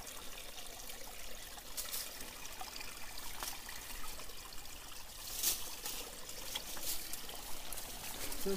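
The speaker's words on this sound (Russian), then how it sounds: "вот тебе родник" Spring water trickles and pours from the ground along a forest mountain trail, a faint continuous splashing stream with small bright spatters, heard close and alone.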